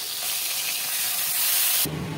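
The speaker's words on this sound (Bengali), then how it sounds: "লবণ হলুদ মাখানো চিংড়ি মাছটা ভেজে নিলাম" Salt-and-turmeric-coated prawns frying in hot oil give a steady, loud broadband hiss and sizzle that holds without a break, then drops abruptly near the end into a lower, duller tone.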